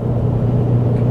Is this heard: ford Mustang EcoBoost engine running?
yes